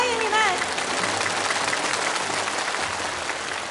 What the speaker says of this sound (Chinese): 再次用掌声欢迎我们的钢七连